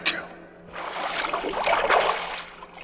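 A paddle swishes through water in one slow, splashy stroke, quiet and close, with a soft trickle trailing off.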